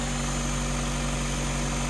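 A Nissan car engine idles steadily after a new alternator has been fitted, a constant low hum with a steady whine and no talk over it.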